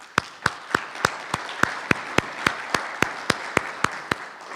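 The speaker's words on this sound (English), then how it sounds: "you should give yourselves a big round of applause" Applause from a conference audience, coming as a string of sharp, evenly spaced claps over a steady wash of clapping, moderately loud and with no talk over it.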